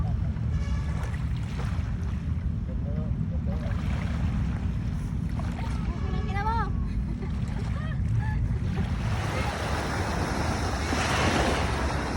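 Waves wash steadily onto the shore at Dolomite Beach on Manila Bay, building in strength toward the end, with wind buffeting the microphone and voices talking over the surf.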